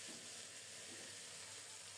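Topse fish frying in a pan with a little ground rice paste: a steady, close, even sizzle and hiss of hot oil, continuous and fairly faint, with no talking.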